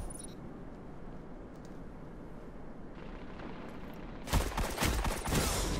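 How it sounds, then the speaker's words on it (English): Gunfire in a Destiny Crucible match, rapid shots bursting loudly near the end over a continuous wash of game ambience. "Oh, got shot at."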